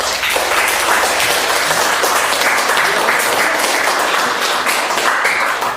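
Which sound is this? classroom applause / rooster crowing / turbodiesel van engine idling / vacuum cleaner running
classroom applause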